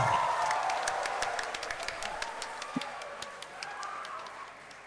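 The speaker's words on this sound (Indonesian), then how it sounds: "Tepuk tangan untuk kita." An audience at an opening Mass for a Catholic youth day claps and applauds, a dense crackling wash of hands, slowly fading over five seconds, with faint voices underneath.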